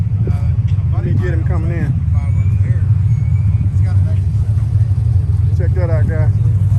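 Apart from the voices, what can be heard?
Chevrolet Camaro Z28 engine rumbling as it drives in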